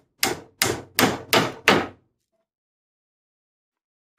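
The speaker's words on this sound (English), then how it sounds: "And then just tap it in place with a hammer." Five quick hammer taps seat a wooden piece of a window sash meeting rail, in a steady rhythm, close and crisp, followed by silence.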